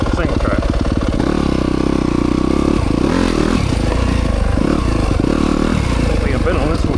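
A Yamaha YZ300FX dirt bike with a 304cc Athena big bore kit is ridden along single track: a close, loud, continuous engine drone that rises and falls as the throttle is worked.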